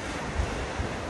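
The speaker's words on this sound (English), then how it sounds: "the water's really rough, it's really windy." Rough surf breaks on a beach under strong wind, a brief wash of steady roaring noise with buffeting wind on the microphone.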